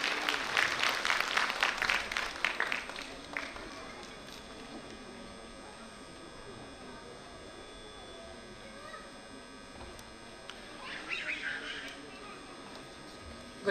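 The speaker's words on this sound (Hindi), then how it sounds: "तो आपसे रिक्वेस्ट है कि तालियों के साथ, जोश के साथ हमारी नेहा मैम का स्वागत करें।" An audience at a school annual day function claps to welcome a teacher onto the stage. Loud applause for the first few seconds fades into room hum, with a shorter burst of clapping returning near the end.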